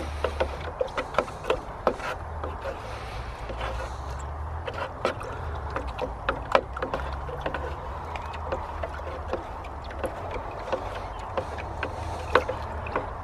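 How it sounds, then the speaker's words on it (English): Slug-control nematodes are stirred into water in a container, making a steady, close sloshing and rubbing with repeated knocks and scrapes throughout. "Keep mixing, no rush."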